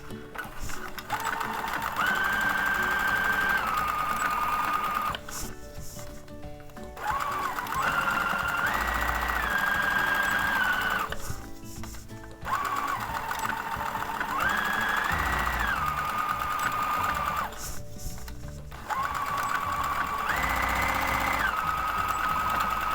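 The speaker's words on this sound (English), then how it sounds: "I'm going to backstitch at the beginning and end of each little block" A sewing machine stitches small fabric blocks for a scrap pincushion, backstitching at the start and end of each; its loud, steady whirring runs in bursts with brief pauses between seams and shifts in pitch as it reverses.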